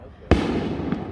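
A single sharp firework burst at a Fourth of July display, heard near and loud, followed by a crackling rumble and a fainter second pop; no one speaks.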